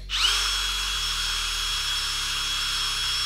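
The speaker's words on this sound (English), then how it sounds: "since we got the drill out, let's see what different eraser tips do" A power drill spinning a pencil eraser whirs up to speed and spins continuously at a high, steady whine, loud and close, with no voices.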